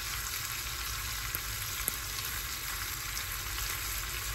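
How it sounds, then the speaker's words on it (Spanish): Shrimp browning in butter or olive oil in a pan, a steady, even sizzle and crackle of frying that holds throughout at moderate level, with a couple of tiny pops and no voices. "Le ponemos un poquito de mantequilla o aceite de oliva a los camarones, un poco de pimienta y los dejamos dorar"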